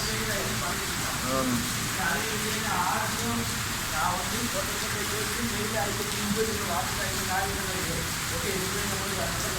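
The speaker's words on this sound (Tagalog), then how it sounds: "Lakas na ng ulan" A downpour of heavy rain during flooding in Dubai keeps up a constant dense hiss for several seconds while people talk faintly in the background.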